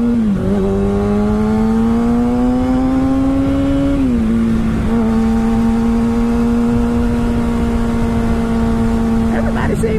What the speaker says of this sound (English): I thought this bike was like extra loud.